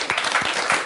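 A brief burst of audience applause at a scouts gathering, with many hands clapping briskly in a near, moderately loud patter for about a second.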